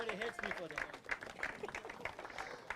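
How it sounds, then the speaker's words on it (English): Applause at a racing awards ceremony for a Majib, a round of clapping from a crowd that runs steadily through the clip with a voice speaking over it. "So, round of applause for Majib,"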